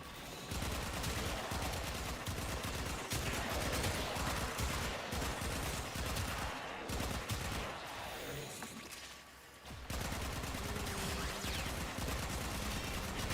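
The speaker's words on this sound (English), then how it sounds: "Fairy bullets go burr." Rapid bursts of video-game gunfire from fairy bullets, dense and loud, chattering almost continuously with a brief lull near the end before resuming.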